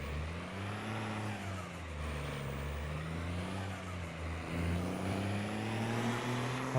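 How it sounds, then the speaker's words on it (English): A heavy truck engine in Farming Simulator 22 idles with a low, uneven rumble, its pitch wavering slowly and rising slightly toward the end. "Sounds like the truck is snoring."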